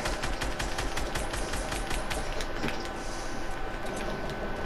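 Rapid automatic gunfire in a shooting video game, a steady stream of close, loud shots that keeps going without a break.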